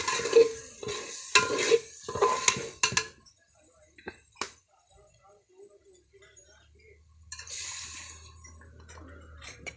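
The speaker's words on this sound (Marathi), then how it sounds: "वाटण बघा चांगलं परतून घेतलं आहे आपण." A ground spice paste stirred and fried in a hot pot for a Maharashtrian amti dal, with a few bursts of scraping and sizzling up front, then sparse clinks and a quieter simmer.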